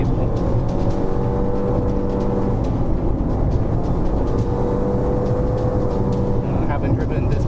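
Steady engine drone and road noise from a Nissan Versa Note pushed along a winding touge mountain time trial course, continuous and fairly loud throughout, with a slight change in tone near the end.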